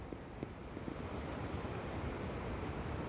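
A river in Yosemite National Park rushes steadily, a broad continuous roar of flowing water heard alone without talk.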